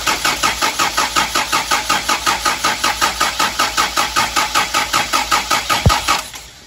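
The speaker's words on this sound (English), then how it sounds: "He's gotten the truck going. All right, Jacob, let it rip" An old Toyota Hilux truck engine, revived after sitting for years, runs loud and close with a steady rhythmic chug, a brief thump near the end before it cuts out and goes quiet.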